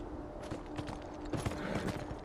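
Quiet, steady clip-clop of horse hooves during riding in the video game Beyond: Two Souls, a loose rhythmic patter of soft thuds with faint background ambience and no talking.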